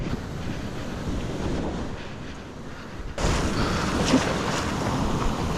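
Shorebreak waves crash on the Angola coast with a constant roar of surf and wind buffeting the microphone, and a heavier wash of water surges in suddenly partway through.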